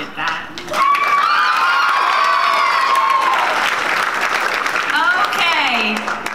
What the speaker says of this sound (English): Can we all just have a round of applause for Baron